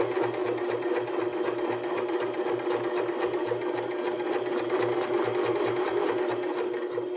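A sewing machine stitching around a fabric pocket on a cork-strap purse, running steadily with a fast, even mechanical chatter, close and continuous with no talking.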